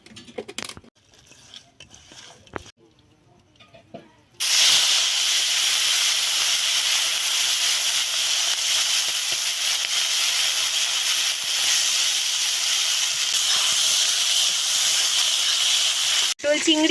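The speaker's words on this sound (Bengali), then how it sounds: "এবার চিংড়িগুলো আমরা ভালোভাবে হলুদ মাখিয়ে ভেজে নেব।" Turmeric-coated prawns dropped into hot oil for potol chingri burst into a loud, sustained hissing sizzle that starts abruptly after a few quiet seconds of faint handling noises, close by with no talk.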